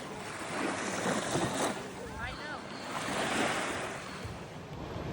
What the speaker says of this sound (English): that's definitely a wake from one of the boats